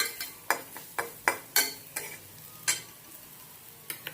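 Bitter gourd being stirred and tossed in a pan with a spoon, a string of sharp scraping clacks at uneven intervals over a faint, steady background sizzle, close and moderately loud, with no voices.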